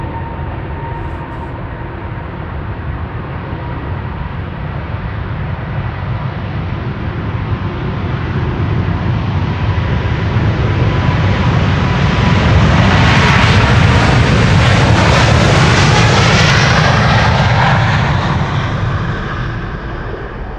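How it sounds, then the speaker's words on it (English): A KLM Boeing 777-300, registration PH-BVS, departs Amsterdam Schiphol from the Polderbaan bound for Lima, Peru. Its jet engines make a loud, continuous roar that builds and swells as the plane climbs away, with no voices. "this is KLM flight 743 to Lima in Peru. 777-300"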